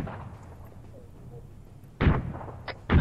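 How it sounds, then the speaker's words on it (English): Two heavy explosions in a military video game with the JSRS sound mod, the first hitting around the two-second mark and the second near the end, each a loud booming blast with a rolling tail over low background rumble. "I can hear the the shockwaves of the explosions"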